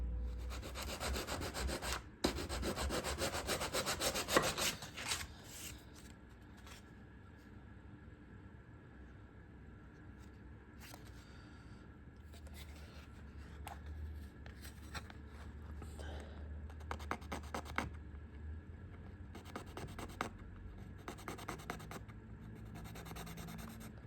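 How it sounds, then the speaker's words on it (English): Small round file worked along the edges of model railway parts, a steady rasping rub that starts loud and dense, then continues quieter and intermittently in short strokes. "first thing I've done is just file the edges of these with a small round file"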